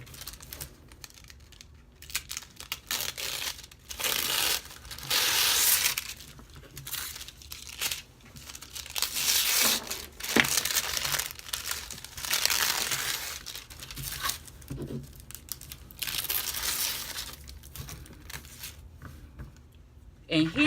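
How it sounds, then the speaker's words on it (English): Sheets of paper being torn by hand into pieces for a pieced paper quilt, a steady run of ripping and crinkling bursts repeating throughout, close and fairly loud, with no talking. "Rip your paper up."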